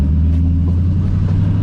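An LS twin-turbo Mustang engine gives a loud, close, deep steady rumble, a brief continuous burst with no talk over it.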